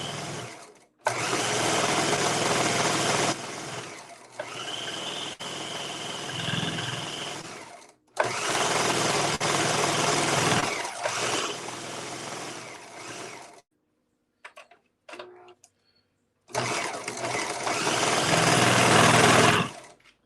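A sewing machine runs in several long, loud bursts, stitching the side seam of a cup dress, with short pauses and quiet handling noises between the runs.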